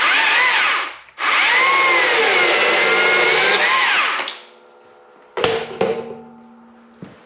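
A Stihl MSA 140 C-B cordless chainsaw cuts clamped 2x2 timber, a brief loud whine, a short pause, then a few seconds of steady cutting that winds down, followed by a couple of sharp knocks and clatter.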